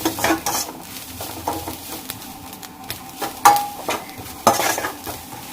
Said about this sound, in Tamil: தேங்காயும் கருவேப்பிலையும் சேர்த்து நல்லா சூடு பண்ணி எடுத்துருங்க